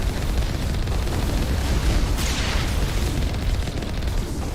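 Rocket explosions and bursts in the Mass Effect 1 Legendary Edition video game, a dense, steady roar of blasts with no clear breaks, loud and close throughout.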